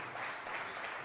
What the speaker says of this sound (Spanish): Si le quiere dar un fuerte aplauso a Cristo Jesús